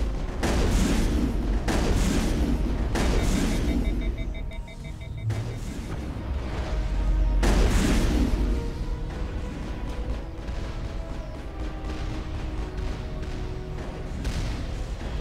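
In the video game Mass Effect, a moving turret fires heavy booming shots and explosions in rapid bursts, loud and continuous, with a rumbling roar and short lulls between volleys.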